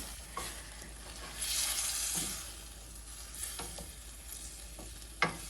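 Food fries quietly in a pan while a utensil stirs it, giving a soft sizzle with a brief louder hiss early on and a few sharp scrapes and taps, the last one loud near the end.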